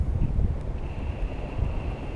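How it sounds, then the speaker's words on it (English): Strong, cold wind outdoors rushing steadily across the microphone as a low, continuous roar with slight surges. "it's lots of wind"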